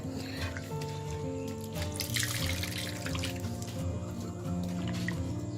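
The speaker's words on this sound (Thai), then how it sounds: "ล้างน้ำหนึ่งน้ำเลยค่ะ แล้วบีบน้ำออกเลยค่ะ" Water sloshes and drips as shredded radish for radish cake is rinsed and squeezed by hand over a sink, a steady wet splashing under background music.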